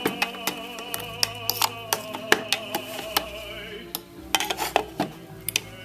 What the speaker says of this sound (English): I'm just scraping down the sides and just mixing up the pork a little bit